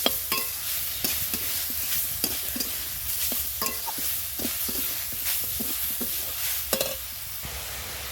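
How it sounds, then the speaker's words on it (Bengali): Grated coconut and jaggery being stirred in a wok on the stove, a steady scraping and shuffling with soft sizzling and a few sharper knocks of the spoon against the pan, close and without talk. "এবার নেড়ে চেড়ে একটা পোট তৈরি করে নেব"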